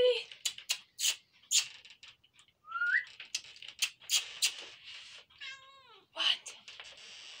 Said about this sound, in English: What's a cat doing in our house, huh?